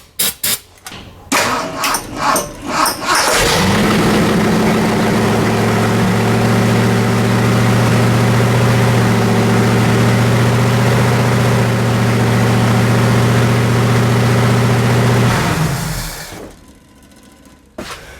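An old Ford Mustang engine with no exhaust cranks with a few uneven bursts, catches and roars loudly at a raw, unmuffled idle, then cuts off abruptly.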